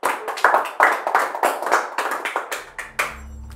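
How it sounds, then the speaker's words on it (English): A small group claps in quick, uneven bursts, close and lively, for a few seconds before the clapping stops and a low steady tone takes over. "A round of applause, please."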